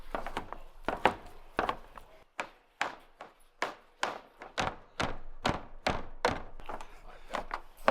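A knife chops through wild hog rib meat with a steady run of sharp, close thunks, about a dozen in quick succession, each hit crisp and distinct.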